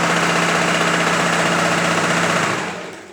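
A sewing machine stitching fabric with a quarter-inch seam allowance for a lined princess dart blouse: a loud, steady motor whir with rapid needle rattle, running evenly and then winding down at the end.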